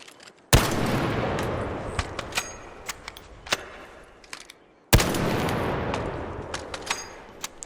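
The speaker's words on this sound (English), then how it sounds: "The ferro is your rifle. Single shot, slow reload, but it packs a punch." Two single shots from the Ferro rifle in a video game, each a sharp, loud crack with a long rumbling tail. The shots come about four seconds apart, with nothing else between them.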